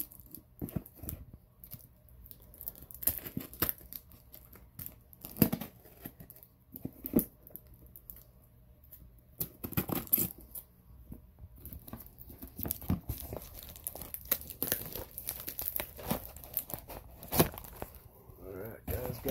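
Scissors or a blade cut open a package by hand, with scattered crinkles, snips, tearing and rustling close by, broken into irregular bursts, while a person talks at times.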